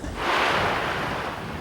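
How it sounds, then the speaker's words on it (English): White water rapids splash around a river boat that is filling with water, a loud, continuous rushing surge with wind buffeting the microphone. "Splashy white water, the boat's full of water, everybody having a good time."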